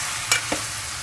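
Chicken curry with coconut powder being stirred in a pan, two quick scraping strokes over a steady low sizzle, close and fairly quiet.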